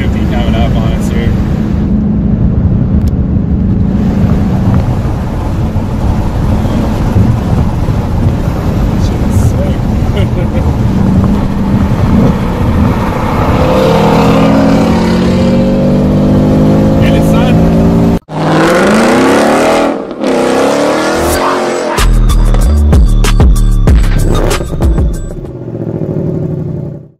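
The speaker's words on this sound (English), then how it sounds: "definitely a GT350 coming up on us here." A Shelby GT350 sports car comes up at speed on a road during a race against a 2018 Mustang GT, its engine roaring loudly and building as it nears, with heavy wind and road noise and a voice talking over it.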